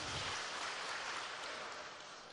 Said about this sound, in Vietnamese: quý vị hãy dành một tràng pháo tay thật lớn để chúc mừng cho 4 đội thi